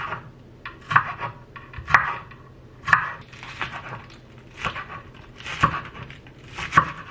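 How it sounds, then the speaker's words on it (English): A knife chops green onion and yellow onion on a cutting board in a home kitchen, giving evenly spaced, moderately loud taps about once per second over faint background noise, with no speech. "I'm going to start by chopping up my green onion and my yellow onion"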